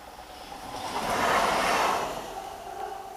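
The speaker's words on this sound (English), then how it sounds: "And here comes the train." A train rumbles past steadily, its broad noise swelling to a peak in the middle and then fading slightly, with no voices.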